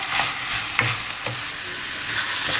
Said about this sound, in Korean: 야채들과 골고루 섞어가면서 2분 정도 볶아줄 거예요